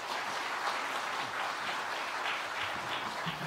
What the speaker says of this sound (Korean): 설교 전에 박수 받아보기는 두 번째인 것 같습니다